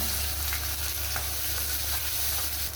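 Cumin seeds, dried chillies and shallots frying in a pan for a vallarai chutney, giving a steady close hiss of hot oil with a few soft stirring taps and no talking.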